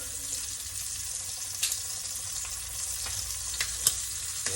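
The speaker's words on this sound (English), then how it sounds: "Turn the shrimp here. I want to get them brown, like kind of golden. I wanted a nice little sear on the shrimp." Shrimp sear in a hot frying pan with a steady, dense sizzle, broken by a few sharp crackles and pops as they are turned, close and fairly loud with no talking.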